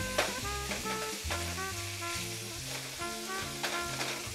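Beef spread out in a pan caramelizes in sauce for spicy Thai noodles, giving a continuous dense sizzle under steady music, with no talking.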